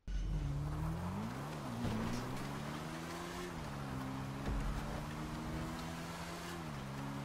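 Race cars in a video game race, a close, loud sustained engine drone that rises and falls in pitch as the cars shift and accelerate, steady throughout with no talking.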